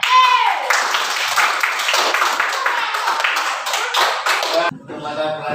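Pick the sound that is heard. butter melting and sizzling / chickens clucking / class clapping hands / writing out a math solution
class clapping hands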